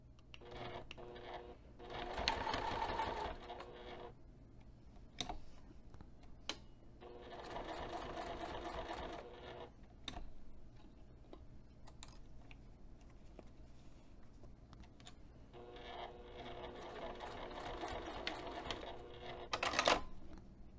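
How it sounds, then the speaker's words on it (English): Sewing machine stitching through bag fabric in three running bursts of rapid mechanical whirring, separated by quieter pauses with faint clicks and handling noises. "Sew a horizontal line and then come back down the other side."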